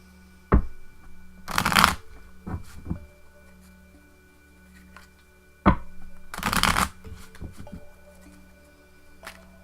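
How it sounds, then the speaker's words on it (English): A deck of tarot cards is shuffled close up in two quick riffled bursts, each preceded and followed by soft taps and squaring of the deck against a quiet room hum, with no talk. "Just give me a moment to shuffle the cards and center myself."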